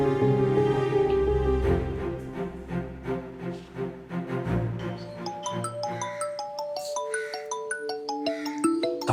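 A phone ringtone plays in a Tamil romantic drama as someone places a call, a steady electronic melody of repeating tones sounding over background music with no talk.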